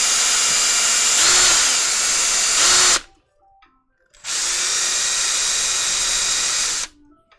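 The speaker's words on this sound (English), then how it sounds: "So we're going to use the drill now." A power drill bores a hole in a Sega Dreamcast console casing during a mod, whirring loudly and steadily in two long bursts separated by a brief pause.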